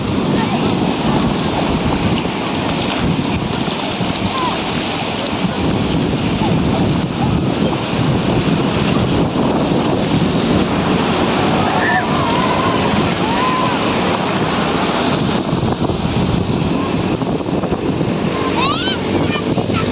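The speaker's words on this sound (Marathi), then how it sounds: "आणि हा बघ हा कसा पाणी उडतोय श्रेयांश." Seawater splashes and rolls at a beach on a hot day, a steady loud wash of surf mixed with heavy wind buffeting the microphone throughout.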